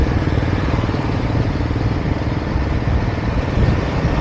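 A CFMOTO motorcycle rides through city streets in Itahari, its engine a loud, steady drone with rough mechanical clatter heard close and continuous, with no voices.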